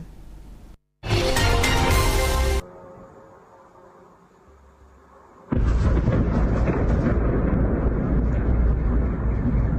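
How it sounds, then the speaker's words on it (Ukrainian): Two heavy, booming blasts from an attack strike in Kryvyi Rih, Ukraine, with a broad roar, the first short and sharp, the second a long rumbling burst that keeps going, with a low murmur between. "Вибух ще один."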